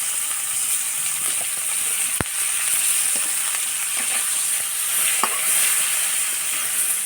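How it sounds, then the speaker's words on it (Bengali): Hilsa fish head pieces frying lightly in a pan, a steady bright sizzle and hiss throughout, with occasional soft stirring scrapes and one sharp utensil click. "এগুলো সুন্দরভাবে হালকা করে ভেজে নেব।"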